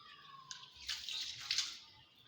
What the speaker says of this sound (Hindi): हाथ धो लूँ पहले तो सबसे पहले।